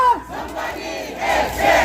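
Huge street protest crowd outside a district court in Seoul, with many voices roaring and shouting together in a loud, sustained swell that rises again toward the end.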